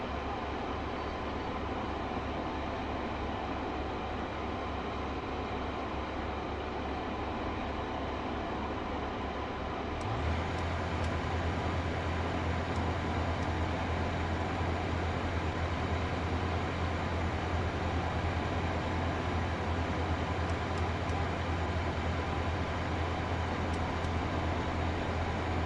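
A diesel train in the Train Sim World 5 game, running on a West Cornwall local line, gives a steady broadband rumble that deepens and strengthens partway through into a constant low engine drone, with no talking.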